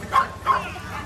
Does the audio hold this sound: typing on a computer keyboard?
no